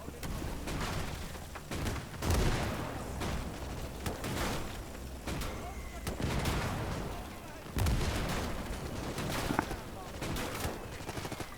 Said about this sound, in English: Alright, throw your hand grenade, mate.